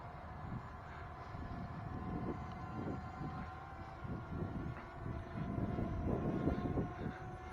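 A Holy Stone HS510 drone descends outdoors in wind among trees, its steady mechanical hum continuing at a moderate distance and growing slightly louder near the end.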